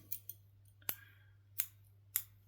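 Scissors snip through crochet yarn while finishing off a piece, making several sharp, close snips in an uneven rhythm over a low steady hum, with no talking.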